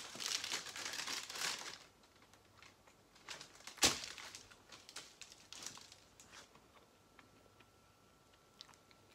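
Crunchy gluten-free crackers are cut, giving close crinkling, crackling snaps in a dense burst at first, then one sharp crack and scattered lighter crunches fading toward quiet.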